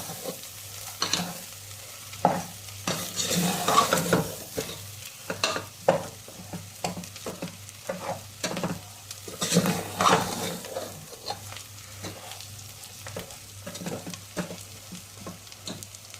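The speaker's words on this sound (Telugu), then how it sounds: "ఈ పౌడర్లన్నీ ఫ్రై చేసుకోండి" Red chilli and coriander powders fry in oil over a medium flame, a soft steady sizzle under repeated rhythmic stirring scrapes and light pan knocks, with no voices.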